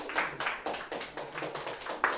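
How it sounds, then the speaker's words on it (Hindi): An audience claps in bursts of applause at a spiritual talk, rhythmic and fairly close, with no speech over it. "आर्या के लिए ताली बजाएं।"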